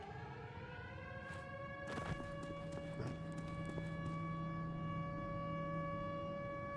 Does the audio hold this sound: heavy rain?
no